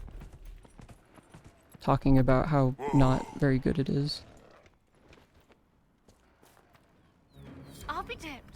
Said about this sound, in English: Just me riding the horse